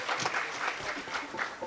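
Short burst of audience clapping for a poet at a Hindi comedy poetry stage show, a brief uneven patter of hands from a modest crowd.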